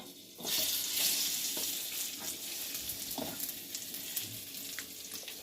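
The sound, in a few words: dates frying in ghee, stirred with a spoon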